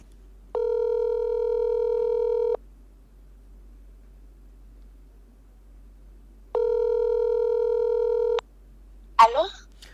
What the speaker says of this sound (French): Nous allons prendre ce deuxième appel